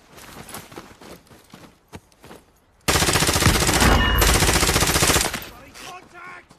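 A video game firefight: scattered single shots and clicks at first, then a loud sustained burst of rapid automatic fire lasting a couple of seconds before it cuts off and quieter shots resume.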